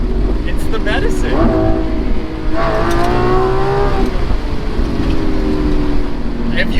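The 759 hp V12 of an open-top Lamborghini Aventador SVJ Roadster, loud and near, climbing and falling through hard revs with a rising engine howl, heard from on board with wind noise and a voice partly under it.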